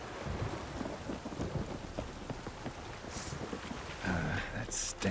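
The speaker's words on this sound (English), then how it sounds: "This downpour's a bastard," Heavy rain pours steadily and a low rumble of thunder rolls beneath it during a downpour in The Witcher 3, with a brief brighter burst near the end.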